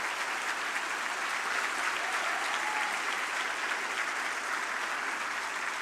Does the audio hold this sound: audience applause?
yes